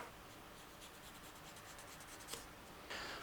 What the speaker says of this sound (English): So let's quickly draw that out.